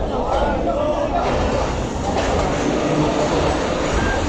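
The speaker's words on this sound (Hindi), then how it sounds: "और ये लग चुकी हैं ब्रेकें फैसलाबाद रेलवे स्टेशन पर।" The 44 Down Shah Hussain Express rumbles loudly and steadily as it brakes into Faisalabad railway station, a dense continuous rail roar with no speech heard over it.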